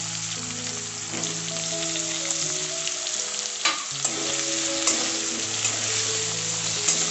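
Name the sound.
potatoes frying with tomato in spiced oil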